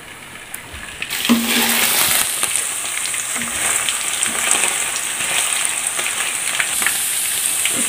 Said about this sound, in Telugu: ఇప్పుడు వీటిని మనం ఆయిల్లో ఫ్రై చేసుకుందాం। ఇవి పన్నీర్ ముక్కలు వేసుకుందాం।